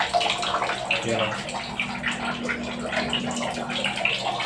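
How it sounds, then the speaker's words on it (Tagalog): Leftover water draining from a shower faucet in a home plumbing setup, a steady broadband rush and splash that runs throughout, with brief spoken exclamations over it. "para yung mga natitira na tubig is mag-drain siya"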